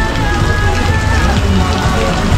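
Heavy rain pours steadily at Corozal Town Market near a taco stand, a dense, loud hiss of drops on surfaces with murmuring voices and market bustle underneath.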